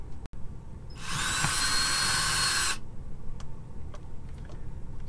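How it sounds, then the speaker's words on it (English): An electric drill bores a hole through the center of an air duct on an air handler, giving one steady, loud whine of about two seconds that starts and stops abruptly, with a quiet room before and after. "we're going to take a drill and we're going to drill a hole into the duct right about in the center"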